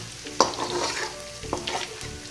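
Ginger and garlic paste is stirred and fried in a pan for dahi chicken, giving a soft, quiet sizzle broken by a few sharp scrapes of the spoon against the pan.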